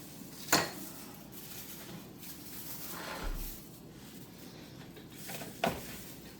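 Meat is cut into smaller pieces for spring rolls, with sharp knife-on-board clacks and clinks at a few spaced moments over a quiet kitchen background, and no talking.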